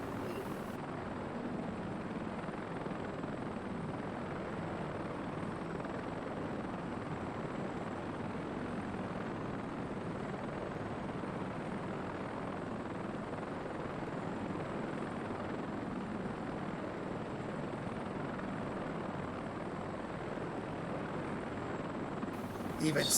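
A Westland Scout helicopter in a flight sim over Svalbard, its rotor and turbine forming a steady broadband drone that holds at an even level for the whole stretch, with no break or change in pitch.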